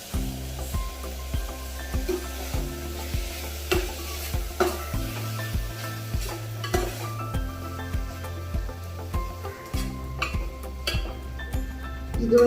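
A spoon scrapes and stirs a broad bean stir-fry with coconut in a hot pan, with rhythmic close scraping strokes repeating over a soft continuous sizzle.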